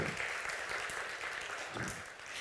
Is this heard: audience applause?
yes